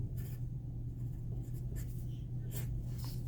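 Pen writing numbers by hand on paper, several short scratching strokes in quick bursts with pauses between, close and quiet against a low steady hum.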